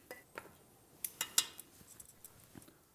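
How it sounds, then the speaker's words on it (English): Roasted bones clatter and clink as they are lifted into a metal stock pot, a handful of sharp knocks and scrapes spread unevenly over a few seconds, close and fairly quiet. "Now we have to pick up all the bones and put them in your stock pot."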